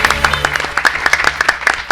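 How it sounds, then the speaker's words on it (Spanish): An audience applauds a doctor at a school science event, scattered individual claps ringing out close by in a loose, uneven rhythm for a couple of seconds over a low background hum. "le damos un aplauso a la doctora"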